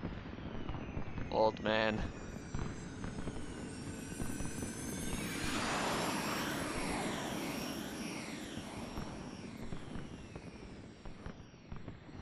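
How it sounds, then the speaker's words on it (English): Fireworks in the video game Final Fantasy XIII, a rising whistle and spreading crackling burst in the middle of a rushing, engine-like ambience, with a voice talking briefly early on. "Gotta love these fireworks."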